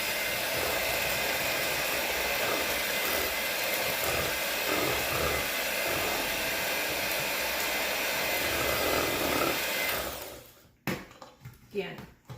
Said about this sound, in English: So now I'm taking my mixer.